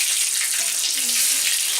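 A breaded cutlet fries in a pan with a steady, bright sizzle of hot fat that fills the whole moment, close and loud, while a voice talks faintly underneath.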